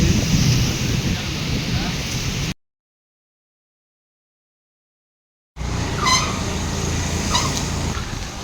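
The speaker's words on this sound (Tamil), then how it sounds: "என்ன இப்படி காத்து அடிக்குது" Heavy rain and strong wind during a storm in Gudiyattam make a loud, dense roar of gusts and downpour, cut by a few seconds of total silence midway before the storm noise returns.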